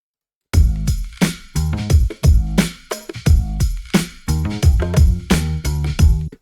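Dry percussion loop from a beat mix playing loud and alone, with punchy low kicks and sharp broadband hits landing in a steady, repeating rhythm.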